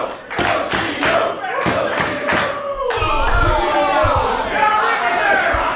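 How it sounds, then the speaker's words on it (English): Raucous pro wrestling crowd in a Milwaukee arena, opening with rhythmic clapping and stomping that swells into loud sustained cheering and shouting, heard throughout under nearby chatter. "this crowd is raucous right from the bell"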